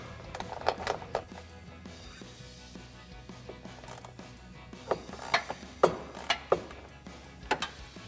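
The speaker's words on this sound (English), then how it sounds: "I'm going to remove the bumper from the bracket with a 16mm socket" A ratcheting socket wrench with a 16mm socket works the rear bumper bolts on a Jeep Wrangler JL, giving quick bursts of metallic clicks in two clusters, separated by quieter handling noise.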